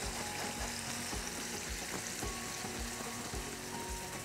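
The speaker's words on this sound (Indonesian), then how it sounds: "Dan ini kita aduk rata." Caramel sauce with liquid cream sizzling in a pan while being stirred, a steady bubbling hiss broken by soft repeated scraping strokes, close and quiet with no talk.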